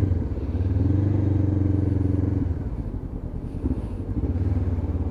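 A Honda CB500 motorcycle, a 500cc bike, idles and revs nearby with a loud, steady engine drone that dips briefly in the middle before rising again.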